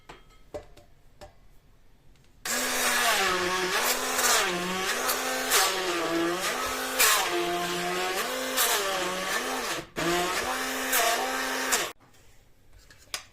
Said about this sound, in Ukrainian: Включати погружний блендер.